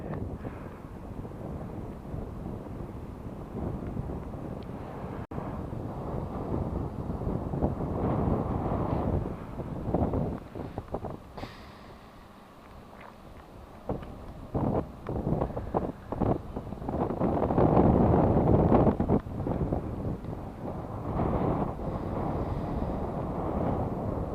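Steady wind buffets a microphone outdoors by open water, rumbling low and gusting stronger at times, with no voices.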